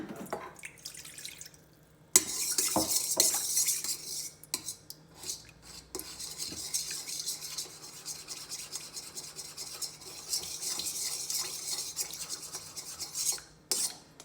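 A spoon stirs yeast and a pinch of sugar into water in a bowl for pizza dough, giving steady scraping and clinking with drips over about twelve seconds after a brief quiet start.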